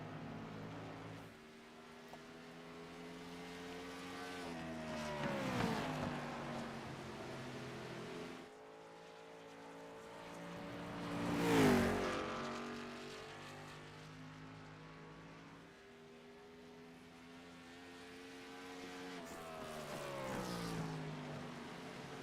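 ARCA stock cars racing in iRacing's Rattlesnake 140 while some cars head to pit road. Steady engine drone with harmonic whine rises and falls as cars sweep past, with louder pass-bys around six, twelve and twenty seconds.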